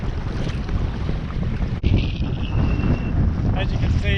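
Strong wind buffets the microphone during kayak fishing at sea off Perth, a loud, rumbling gusty roar with splashy water noise and a brief thump midway.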